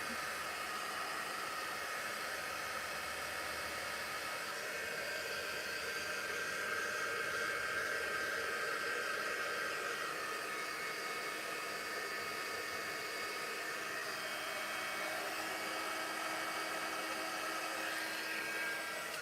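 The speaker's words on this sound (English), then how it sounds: "I'm just using my heating tool here to try to dry this tray so I can do a second coat." A heat gun blows steadily over a freshly painted tray, giving a continuous even whooshing hiss at moderate level with no talk for the full stretch.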